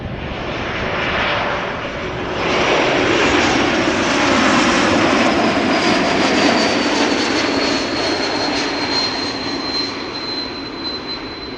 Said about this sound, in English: We have an E2 Embraer 195 arriving from Zurich next. Listen to the howl, the whistle, I should say, as it passes by